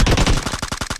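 Gunfire in the video game PUBG: a rapid, loud automatic burst of shots, then a string of evenly spaced single cracks, all close and with no talking over them.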